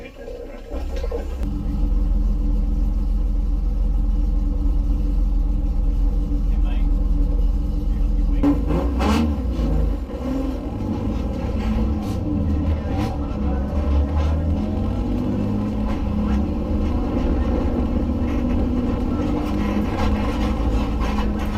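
Race cars, including an E30 and an EK Civic, roll off at the start of a track race at Atlantic Motorsports Park, a loud continuous engine rumble and drone filling the scene with shifting tones.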